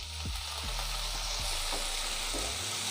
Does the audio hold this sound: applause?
no